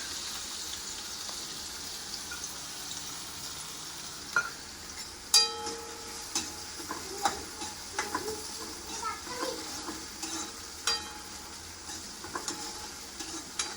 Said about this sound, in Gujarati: અને કઢાઈમાં તેલ મૂક્યું છે, અને હું પાસ્તાનો વઘાર કરીશ